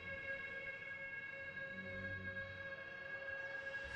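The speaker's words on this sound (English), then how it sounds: "Air raid sirens, we're under attack." Air raid sirens in the Steel Battalion video game, a sustained steady wail with strong even tones holding level throughout, moderately quiet and alone without talk.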